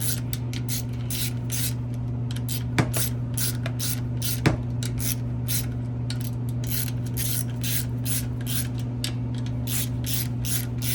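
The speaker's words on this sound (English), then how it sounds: "you go like up, bring yourself up on the ratchet so you're not putting so much torque on them" Ratchet working bolts loose on a Honda XR/CRF100 motorcycle engine being built as a 145 stroker, a rapid steady clicking repeated throughout over a constant mechanical hum, with a couple of sharp metallic taps.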